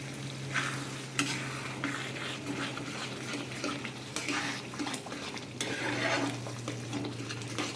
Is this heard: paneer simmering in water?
yes